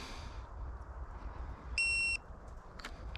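A single electronic beep, clear and tonal, lasts under half a second over a quiet hum, followed by a faint click.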